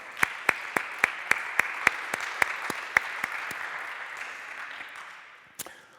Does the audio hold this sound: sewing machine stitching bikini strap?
no